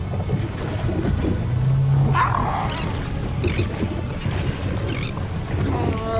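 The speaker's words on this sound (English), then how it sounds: "We stumbled across some sea lions that were on a buoy, and they were making crazy guttural sounds." Deep guttural grunts and croaking calls from sea lions on a buoy come through steady wind and water noise, rising and falling in short bursts.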